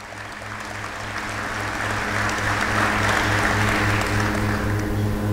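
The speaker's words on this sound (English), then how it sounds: "Let's give him a round of applause, please." Luncheon guests at an annual meeting applaud, a steady wash of clapping that swells gradually and holds over a low room hum.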